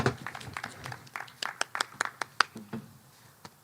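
A small audience at an outdoor garden lunchtime session claps for a few seconds, with scattered individual hand claps rather than a full roar, fading toward the end.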